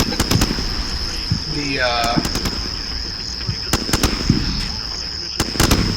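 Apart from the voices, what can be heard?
gunfire in the video game Combat Mission: Shock Force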